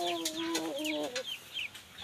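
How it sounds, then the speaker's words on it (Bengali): A Brahma chicken chick gives a few sharp, high clucks and cheeps in quick succession, close by over light background noise. "এবার আমি আপনাদের সামনে দেখাবো বাপ ব্রাহ্মা মুরগির বাচ্চা"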